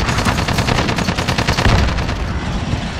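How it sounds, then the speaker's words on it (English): Rapid, loud gunfire in a multiplayer shooter hardpoint match, a dense run of shots close up for most of the stretch before easing off at the end. "Oh, there's the shotgun."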